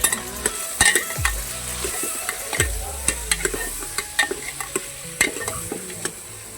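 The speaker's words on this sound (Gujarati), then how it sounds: "હવે તે બધું હલાવી નાખ" Vegetables being stirred in a pressure cooker pot, with irregular clinks and scrapes of a spoon against metal and a soft sizzle underneath.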